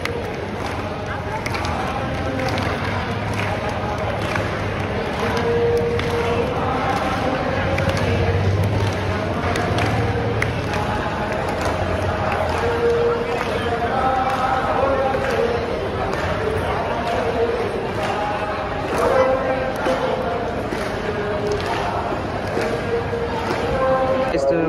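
Dense crowd of pilgrims at the Shirdi temple, a continuous babble of many voices and footsteps with a nearby person talking over the steady hubbub.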